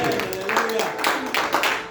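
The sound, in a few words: congregation clapping hands in church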